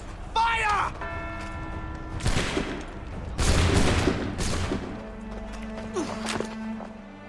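A musket volley fires in Assassin's Creed 3 as a ragged burst of several gunshots, loud and close, with crashes and scattered impacts after it and voices speaking around the shots.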